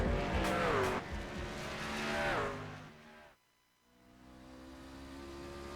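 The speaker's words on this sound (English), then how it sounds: "take a ride around Iowa Speedway in a NASCAR Gander Outdoors Series truck in our GSRC lap guide" A NASCAR Gander Outdoors Series truck lapping Iowa Speedway in iRacing, its engine roaring and sweeping in pitch as it passes, then briefly dropping out before the steady drone resumes.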